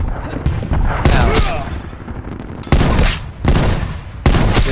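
Heavy bursts of automatic gunfire in Call of Duty: Black Ops Cold War co-op play, loud and close, coming in several sustained volleys separated by brief lulls, with voices talking over parts of it.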